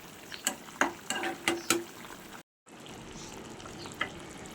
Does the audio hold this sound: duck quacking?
no